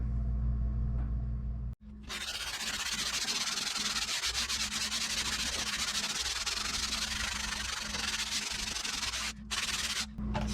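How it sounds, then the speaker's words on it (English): Steady hand sanding on a teak wood panel during a sailboat interior refit, a continuous close rasping rub with brief pauses near the start and end, under a low background rumble. "We're just going to keep doing more hand sanding."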